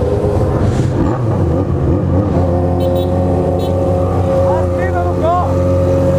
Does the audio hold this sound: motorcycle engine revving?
yes